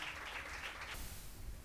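Audience at a pastors' and leaders' conference clapping for a speaker and translator, a short, dense burst of applause that shifts in tone partway through.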